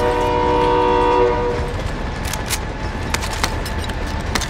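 A train rumbles past in a video game, with a steady horn tone at first, then a dense clattering roar of wheels on rails and sharp metallic clicks, loud and continuous throughout.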